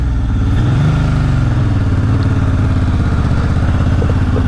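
A Yamaha XS750 motorcycle engine runs loud and close after carburetor cleaning, with a rough, throbbing idle that rises briefly in pitch and then settles into a steady rumble.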